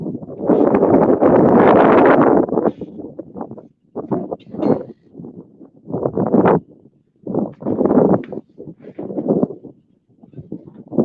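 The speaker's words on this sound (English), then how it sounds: "Sorry for the wind. It's very windy." Strong wind buffets the microphone outdoors on a cold trout-fishing outing, coming in loud rumbling gusts of a second or two separated by brief lulls, with no voices heard.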